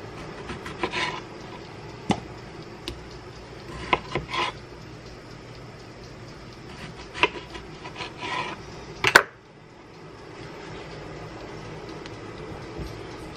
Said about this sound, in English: I'm just cutting them up, taking the cores off, like cutting the tops off